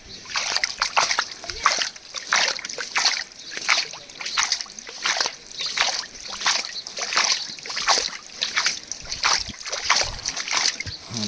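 Water splashes and sloshes in repeated bursts into an automatic cow water trough on a farm, close and fairly loud, going on throughout.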